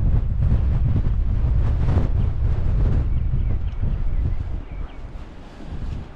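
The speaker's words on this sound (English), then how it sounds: "It's crazy how windy it is." Strong wind in Iceland buffets the microphone with a loud, continuous roar and gusting rumble that eases slightly near the end, with no voices.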